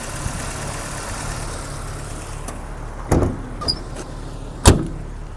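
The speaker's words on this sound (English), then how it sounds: "I gotta bump the idle up a little bit because when I'm in drive, it's a little stumbly." A BMW E30 engine idles slightly low and stumbly, a quiet steady low rumble in the background, broken by a few sharp knocks and a louder thump partway through.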